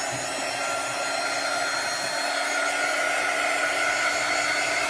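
A heat tool blowing over chalk paste on a craft project, a loud, steady rushing whoosh that runs unbroken and close throughout.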